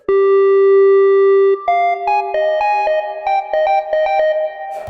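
Synthesizer arpeggiator notes step through a bright, buzzy pattern after a long sustained opening tone, with rapid repeating pitches and effects-laden shimmer, loud and alone.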